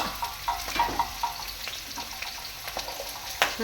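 Ginger, green chilli, curry leaves and onion frying in a pan, a soft continuous sizzle with occasional sharper crackles and pops, close and without speech.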